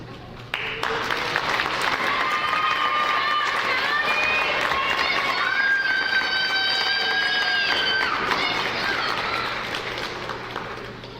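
Sustained applause from a graduation audience, loud and dense from start to finish, with cheers and whoops rising over the clapping and tapering slightly at the end.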